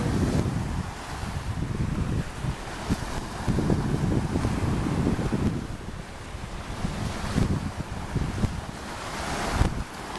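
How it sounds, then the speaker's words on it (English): Surf rolls in steadily at a beach while wind buffets the microphone, a loud, continuous wash of waves with gusty rumble and no voices. "We are at the beach, and look at this, y'all."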